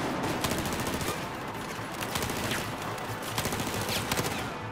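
Rapid gunfire from the Battlefield 4 shooter game fills the whole stretch, dense bursts of automatic shots at steady loudness with a few sharper cracks, and no talking.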